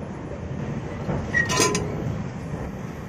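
Steady rumble of the Panchvati train running from Nashik Road to Kalyan, heard from inside the carriage with a continuous low roll, faint rail clinks and a brief metallic squeal midway.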